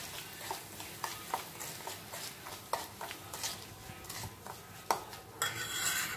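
A spoon stirring raw mango pickle masala with oil in a metal pan, giving repeated clinks and scrapes in an irregular rhythm, close-up with no talk.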